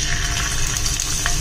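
Prawns dropping one by one into well-heated oil for a Kerala-style prawn roast, giving a steady close sizzle and crackle that runs throughout with no pause.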